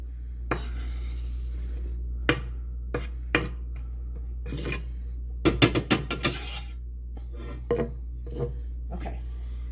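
Chopped vegetables going into a pot of vegetable barley soup: scattered knocks and scraping clatters, a dense cluster midway, close and moderately loud over a steady low hum.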